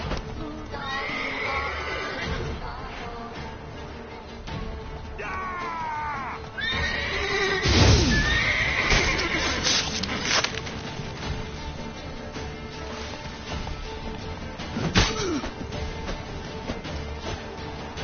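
A horse whinnies loudly in a PS4 video game, a rising, wavering call, with game background noise and thumps; another shorter neigh follows later.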